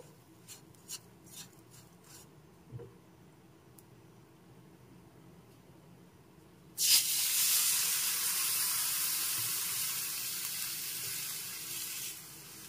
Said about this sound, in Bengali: সামান্য একটু জল মিশিয়ে কিছুক্ষণ নেড়েচেড়ে নিতে হবে।